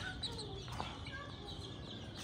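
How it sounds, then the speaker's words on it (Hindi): Chickens cluck and a rooster calls softly as roosters and hens are picked up and handled, with continuous low farmyard noise and rustling throughout. "ये मुर्गा है, वो मुर्गी थी, ये मुर्गा है।"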